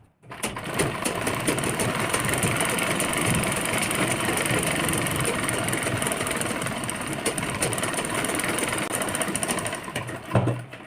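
An electric sewing machine runs a continuous seam along the edge of a lehenga blouse, a steady, close mechanical whir that holds evenly for about ten seconds before stopping.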